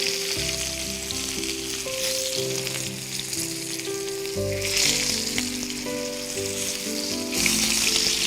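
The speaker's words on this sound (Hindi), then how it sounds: "फिश को आपको दोनों साइड से फ्राई करना है, तो इसे पलटकर" Fish frying on a flat tawa griddle, turned to cook both sides, gives a steady bright sizzle that swells louder partway through. Low tonal hum and clinks sit beneath it, and no one speaks.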